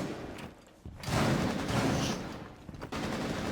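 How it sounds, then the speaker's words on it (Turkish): A firefight in Rainbow Six Siege, with bursts of gunfire and rapid automatic shots rattling at a moderate distance amid brief thumps and quieter gaps. "Abi arkamızda çatışma dönüyor ya."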